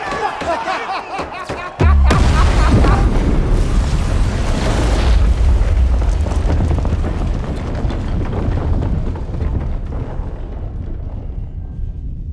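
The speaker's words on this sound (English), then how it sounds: "Erik and Ethan, how do you guys describe your process for that explosion?" A huge explosion booms in Joker: Folie à Deux, a sudden loud blast that rolls into a long, dense rumble of debris and roaring noise lasting many seconds.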